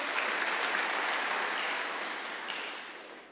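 Congregation applause at a church worship service, a dense steady wash of clapping that fades slightly toward the end, with no speech over it.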